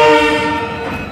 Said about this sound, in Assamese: অকল ট্ৰেইনৰ মাথাটো এইটো